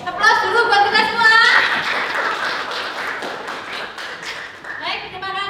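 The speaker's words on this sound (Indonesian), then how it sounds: "Aplaus dulu buat kita semua." A classroom group clapping together, a steady patter of many hands that continues for several seconds while voices speak and laugh.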